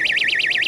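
A portable Arachnet anti-theft security alarm gives a brief, piercing warbling siren that sweeps up and down in quick regular cycles, close and alone.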